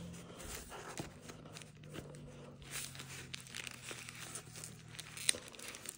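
Masking tape being torn and handled while working on a Dodge truck's heater, soft crinkling and tearing rustles with a few brief crackles, close but faint, no talking.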